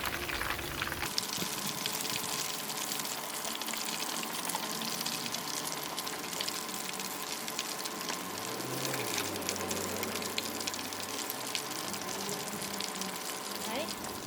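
Pork belly for crispy siew yoke frying in hot oil, a steady dense sizzle and crackle running throughout with light bubbling, close and fairly loud, with a low rumble in the middle.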